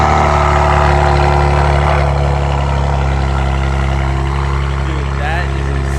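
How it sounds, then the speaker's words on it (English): A Kia Stinger with a straight-pipe exhaust idles loudly and heavily after a cold start, a deep constant drone close by, with a voice talking faintly over it. "here's a true cold start straight pipe."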